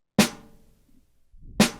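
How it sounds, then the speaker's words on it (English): Two single hits of a realistic-sounding sampled snare drum, sharp and crisp, each with a short decaying tail, played alone about a second and a half apart in FL Studio. "which is a kind of realistic sounding snare"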